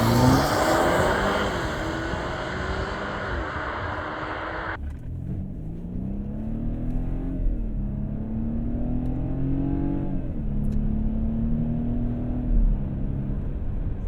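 BMW F10 528i M Sport pulling away at half throttle in sport mode, its engine note climbing then dropping as the automatic shifts on its own, several rising sweeps up close with no talk.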